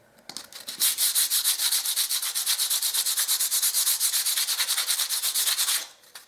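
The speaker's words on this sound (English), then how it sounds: "So a light sand, and I'm ready for filling." Old plaster being hand sanded with 160 grit sandpaper, a close, loud, steady back-and-forth scratching in even rapid strokes for several seconds that stops abruptly, with no talking.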